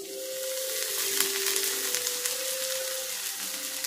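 Coconut oil in a pan for homemade hair dye gives off a steady, close hiss and crackle like frying, continuous throughout with a faint whistling tone running underneath.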